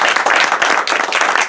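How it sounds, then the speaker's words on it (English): Audience applause at a campaign kickoff for a San Benito County, California ballot measure, a dense, steady burst of many hands clapping close by, with no talk over it. "first I just want to see if we can get a round of applause for everyone that helped put this together today."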